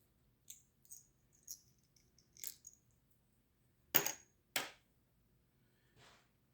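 Dice rattle and clatter onto a tabletop during a wargame session, a string of small quiet clicks followed by two louder tumbling bursts, then near silence.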